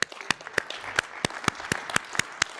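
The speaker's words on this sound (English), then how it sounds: "Please applause." Scattered, sparse clapping at a hepato-pancreato-biliary surgery association general assembly, individual sharp claps spaced irregularly over a soft background, fairly faint and thin rather than a full ovation.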